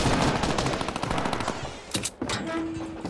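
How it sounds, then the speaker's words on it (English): Minigun fire in the Fortnite video game, a dense rapid stream of shots for about two seconds, then a brief break and a few final bursts with a lingering tone. "A mini gun."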